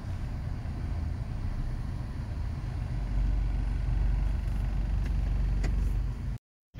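Road traffic heard from inside a moving vehicle: a continuous low engine and road rumble that swells midway, faint clicks near the end, then a sudden cut to silence.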